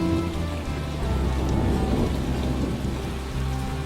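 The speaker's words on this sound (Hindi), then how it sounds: "वह तड़कती बिजली और तेज बारिश में अपनी गुफा को छोड़कर गांव की ओर निकल पड़ते हैं।" Steady heavy rain pours down in a thunderstorm, a dense continuous wash with low rumbling thunder underneath, loud and close with no voices.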